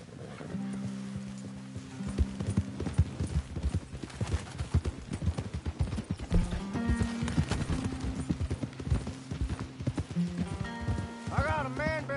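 Horses trotting in the Red Dead Redemption 2 Online video game, rapid rhythmic hoofbeats clopping close by over a background of musical tones.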